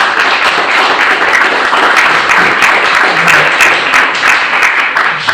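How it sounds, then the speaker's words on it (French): Loud, dense applause fills a public meeting hall. Many hands clap in a steady, unbroken roar that stays close and even throughout, with no talking over it. "je voudrais que vous applaudissiez Frédéric."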